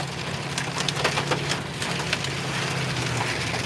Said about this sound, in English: we just got a little hail right now. Now it's raining like a mother.